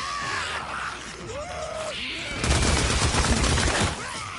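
Bursts of rapid gunfire ring out against zombie hordes in the video game Days Gone, loud and close, following groans and creature cries.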